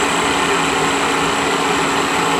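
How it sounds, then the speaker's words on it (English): Two synchronized live tools spin at 2000 RPM on a KSI SQC-38 CNC Swiss lathe, heard up close as a loud, steady, even mechanical whir with a high tonal whine, with no talk over it. "we are running right now these first two live tools"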